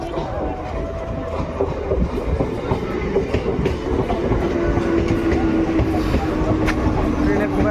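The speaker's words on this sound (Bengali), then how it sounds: "আর এই যে ট্রেন চলে এসছে দেখতে পাচ্ছ" A train rumbles into a Kolkata station with loud, continuous clattering of wheels on rails and a faint squealing tone, close by throughout.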